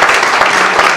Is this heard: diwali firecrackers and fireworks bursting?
no